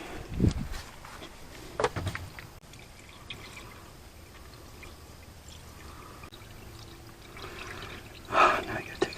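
Water pours into the water pump system of a Kubota KH-191 excavator under repair, coming in short, faint splashing bursts with trickling between them.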